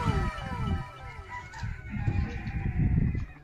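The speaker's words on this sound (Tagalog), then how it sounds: "dami nilang mga manok dito." Penned chickens and roosters at a poultry and livestock market in Najran, Saudi Arabia cluck busily with overlapping crows, a dense, close barnyard chorus and no talking.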